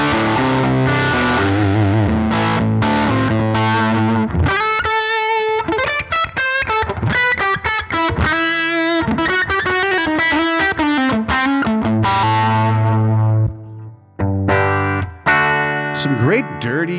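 Electric guitar through Fender amp captures in IK Multimedia's Amp Vault collection for TONEX, alternating dirty and clean tones: sustained chords and melodic single-note runs with effects, loud and continuous, with a brief pause near the end.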